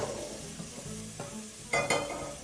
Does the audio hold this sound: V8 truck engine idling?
no